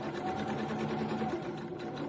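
A sewing machine runs continuously while stitching bra fabric, giving a steady, close whirring hum with a fast even needle pulse and no speech.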